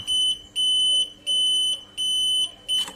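A shrill electronic alarm on a battery charger beeps because the clamps are connected to the wrong terminals, a steady repeating pattern of four long beeps and the start of a fifth, loud and close.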